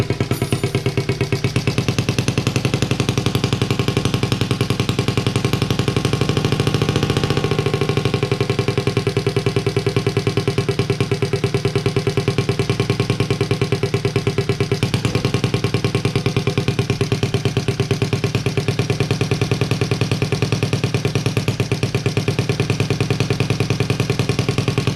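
A Honda Z50A Monkey Bike's small engine runs at a steady, loud idle with a rapid close putter and light mechanical clatter, unchanged throughout.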